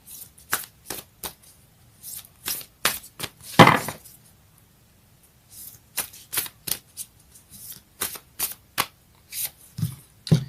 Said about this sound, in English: Let's get a Moonology card.